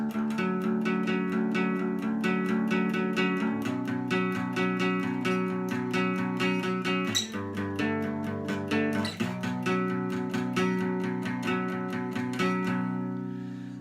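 Guitar strums a repeating verse chord pattern, steady and full, with changes between chords every few seconds and no voices.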